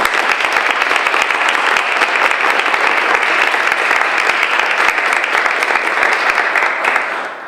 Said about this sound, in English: Please join me in clapping one more time for the United Way.